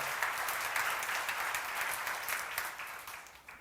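A church seminar audience claps steadily together, dense and sustained, thinning slightly toward the end.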